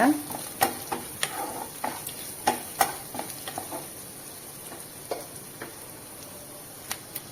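Curry leaves stirred into a frying pan for a coconut-milk keerai kootu, with a steady faint sizzle and repeated light scraping taps of the spoon against the pan.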